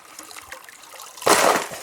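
Water sloshes and washes over gravel in a gold pan at a river spot. A low trickle builds into a louder, close splashing swirl near the end.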